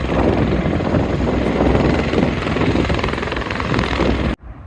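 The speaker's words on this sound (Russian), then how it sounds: "Реально коптеры. Тренировочный полет на них." Helicopters on a training flight, a loud, steady broadband rotor and engine roar close by that cuts off abruptly near the end.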